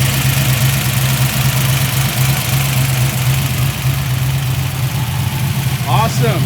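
A barn-find car's engine idles at a steady, low rumbling pace. It is close and fairly loud throughout, with a brief higher whine near the end.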